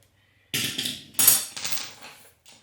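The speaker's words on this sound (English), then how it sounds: "I'm gonna go ahead and take the ratchet off now" A few close metallic clanks and clinks as a ratchet is pulled off the oil filter during an oil change on a Toyota 4Runner, in three quick bursts with a faint final tap.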